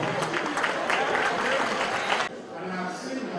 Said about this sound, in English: we will give them a big round of applause